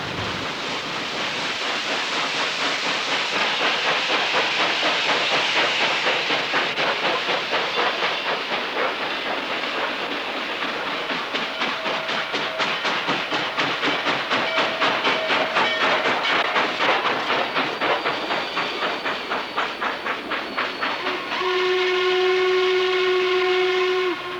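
A Norfolk and Western Class A 1218 steam locomotive running hard, with rapid rhythmic chuffing and hissing steam throughout, ending in a long, loud whistle blast.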